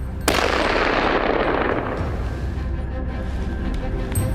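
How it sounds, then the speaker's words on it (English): A single loud gunshot cracks out near the start while hunting wild boar on a hillside, followed by a long rumbling echo that decays slowly across the remaining seconds. "A gunshot rang out, and I easily took down the wild boar."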